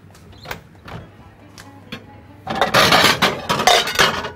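A plate set down in a kitchen while dried molokhia is prepared, a few light clinks followed by a louder burst of dish and utensil clatter close by, with no talking.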